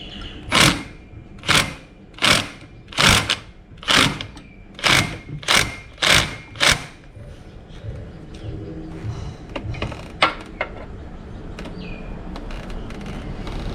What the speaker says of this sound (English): because of the tight space, I will be using a impact wrench instead